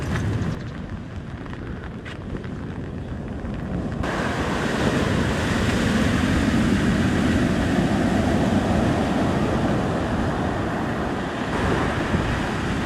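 Stormy sea waves roll and crash in a continuous roar along with strong wind buffeting the microphone, loud and close, growing heavier after the first few seconds.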